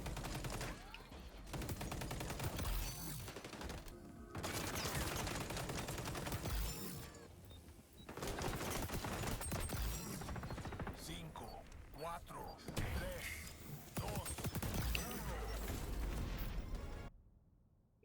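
Repeated gunfire from a marksman rifle in the online shooter XDefiant, loud, dense bursts and shots running almost continuously over a game-action background, with a brief pause near the start and a sudden cut to silence at the end.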